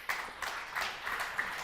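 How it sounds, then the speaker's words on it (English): Audience applause at a talk on India's semiconductor ecosystem: a short burst of scattered hand claps from a modest crowd, fairly quiet and close, with a few louder individual claps. "Give it a clap."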